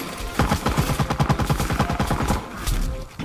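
Homing shots in Plants vs. Zombies: Garden Warfare 2, a rapid rhythmic volley of about twenty quick popping shots at a steady pace, loud and close, ending with a heavier burst.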